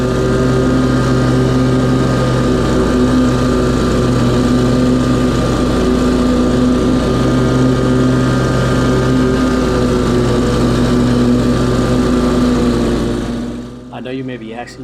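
A lawn mower cutting grass in circles across a lawn drones loud and close in a steady, unbroken engine hum, then drops away near the end.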